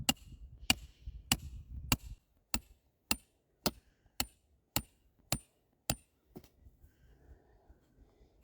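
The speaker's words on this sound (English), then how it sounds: "I'll take my hammer. I'm just going to pound this down the ground." Ten sharp metallic strikes land at a steady, even rhythm, a hammer pounding a trap stake into the ground, close by and loud, followed by quiet rustling.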